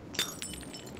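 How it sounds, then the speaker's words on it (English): Glass bottles smash in the video game Garry's Mod Prop Hunt: a sharp shattering crack with a second, softer break moments later. Both are fairly quiet and brief. "Stop smashing bottles!"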